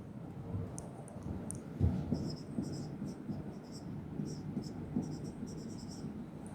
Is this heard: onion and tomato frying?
no